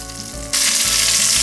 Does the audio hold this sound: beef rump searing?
yes